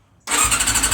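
A Honda CB400 Super Four motorcycle engine catches suddenly after a brief quiet moment, then idles loudly and close with a steady throb and a bright, hissy top end.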